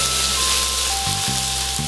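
Burgers sizzle hard in a hot pan, a loud, steady hiss of frying that fills the whole stretch with no voices.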